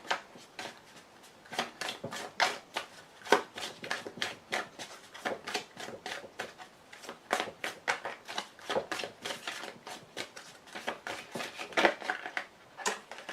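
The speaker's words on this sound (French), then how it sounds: "Je coupe et donc il me faut juste une carte." A deck of cards being cut and shuffled by hand at close range, a steady run of crisp riffling snaps and soft slaps with no talking.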